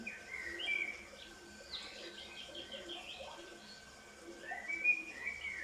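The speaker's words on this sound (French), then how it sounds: "écoute comme les petits gazouilles des oiseaux sont jolis." Small birds chirp and whistle in short, high tweets, softly and at a moderate distance, over a faint, steady background with no talking.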